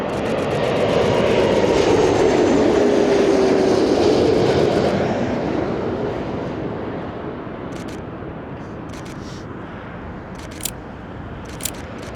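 Airplane passing by at an airport spotting location, a broad roaring engine rumble that peaks early, then fades gradually into distant background noise, with a couple of faint clicks late and no talk.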